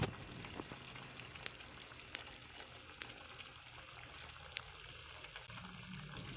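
Pork and chicken adobo with saba bananas simmering in a pot, giving a steady low bubbling and sizzling hiss with a few soft pops throughout.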